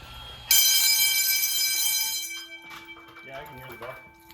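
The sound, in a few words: fire alarm bell ringing during a school alarm test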